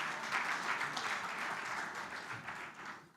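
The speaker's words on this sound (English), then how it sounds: "Let's give him a round of applause." Audience applause at a convention for a keynote speaker's board chairman introduction: a fairly faint, even patter of many hands clapping at a distance, steady for about three seconds before dropping away.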